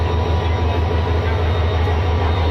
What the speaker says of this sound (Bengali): এই ট্রেনটি এখন শ্রীপুর স্টেশন ত্যাগ করতেছে